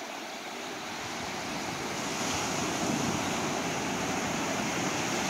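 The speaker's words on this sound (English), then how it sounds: "Oh, some nice waves coming in on this side." Ocean waves rolling in on a beach shore, a loud continuous broadband wash that swells and stays steady, with some wind noise on the microphone and no talk.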